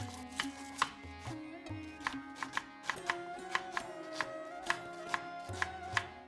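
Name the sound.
thinly slicing red onions with a knife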